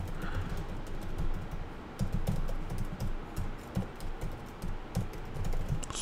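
Computer keyboard keys clatter in quick irregular bursts of clicks, close and fairly loud, while an email message with a link is typed out in ConvertKit.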